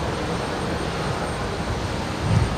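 An aircraft takes off at Brisbane Airport in cyclone weather, its engines a steady, heavy roar that swells slightly toward the end, mixed with wind noise, with no voices.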